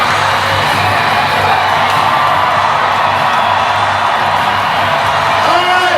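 An arena crowd at a monster truck event roars in a dense, loud, continuous wash of cheering and shouting that holds steady throughout.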